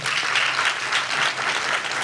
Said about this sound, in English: I think it deserves a round of applause once again